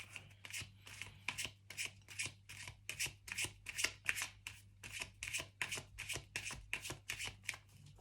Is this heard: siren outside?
no